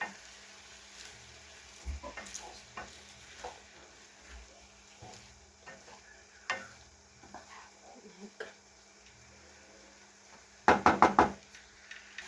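A lid is set on a cooking pot of vegetables for a macaroni dish. Quiet knocks and soft kitchen clatter over a faint sizzle lead to a brief, sharp cluster of metallic clanks near the end.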